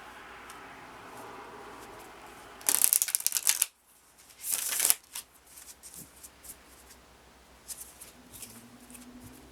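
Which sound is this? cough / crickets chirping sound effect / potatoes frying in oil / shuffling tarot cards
shuffling tarot cards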